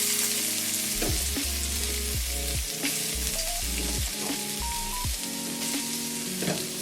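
Onions fry with browning garlic in a pan, a constant crackling sizzle close by, with faint background music tones running underneath and no one speaking.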